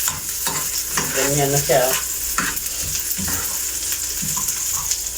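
Onion and garlic frying in a pan with a loud, continuous sizzle and scraping stir sounds throughout, while someone talks briefly over the cooking.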